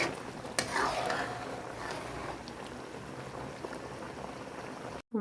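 Coconut milk simmering with chicken curry in a pot, a steady close bubbling and gentle boil that runs on evenly, with one brief clink near the start and a sudden cut at the end.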